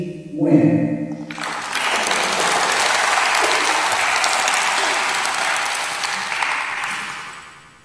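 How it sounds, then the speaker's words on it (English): A crowd breaks into loud, sustained applause right after a brief voice, the clapping holding steady for several seconds before fading out. "please a big round of applause for the next MC, Miss NGAY."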